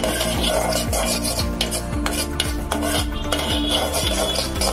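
White sesame seeds dry-roast in a pan, stirred with a rapid rasping scrape and clinks of a utensil against metal, continuous and close, with no talk.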